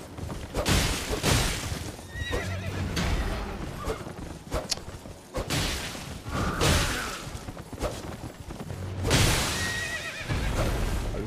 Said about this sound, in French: le cheval il en peut plus